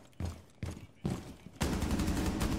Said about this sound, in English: I'm just gonna keep on fucking hip firing until I get somebody